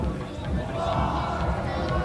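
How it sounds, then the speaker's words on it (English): Kempton Park high school supporters cheer on their under-16 or under-17 rugby side at a live match, a steady, dense crowd roar with mixed shouting and babble that carries evenly from start to finish. "So Kempton Park is also cheering on their team."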